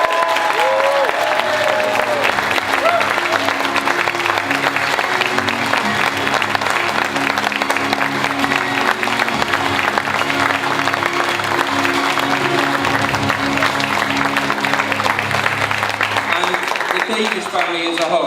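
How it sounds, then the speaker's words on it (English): An audience gives a charity runner named Steve Davis a round of applause at a running service, with sustained, dense clapping that fills the room steadily for the whole stretch. "Can we give him a round of applause?"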